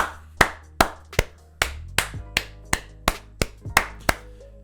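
About a dozen sharp, loud hand claps at a steady, slightly uneven rhythm, each ringing briefly, with a faint sustained tone underneath.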